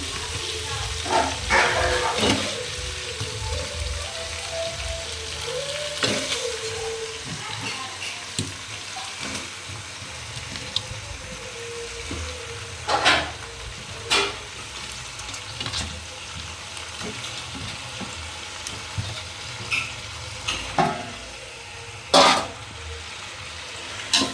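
Washed chicken pieces sizzle in a pan with ginger garlic paste for a chicken dum biryani, a soft, steady frying hiss broken by clanks and stirring scrapes, with a voice talking at times.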